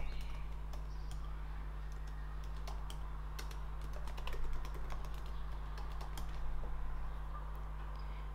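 Steady clicking of keys on a computer keyboard as a wallet name and password are typed, a continuous close patter of keystrokes over a low constant hum.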